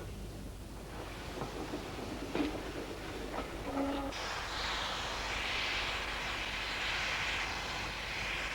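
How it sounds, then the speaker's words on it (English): A double-headed steam train pulls into Harman's Cross halt on the Swanage Railway as a broad, steady rumble, with a brief whistle-like tone midway and a rising hiss and roar as it draws near. "At Hurston Halt, a double-headed train arrives."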